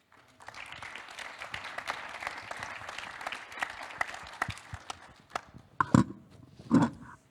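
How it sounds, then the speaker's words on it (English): A conference audience claps steadily for several seconds for panelists at an Earth observation commercialisation forum, a dense even patter of applause that thins out, followed by a couple of louder thumps. "And big applause for our panelists."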